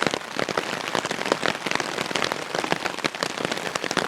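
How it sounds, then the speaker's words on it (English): Heavy rain pours down on a backpacking campsite, a dense, loud, steady crackle of drops hitting close surfaces with no voices. "Look at this rain coming down."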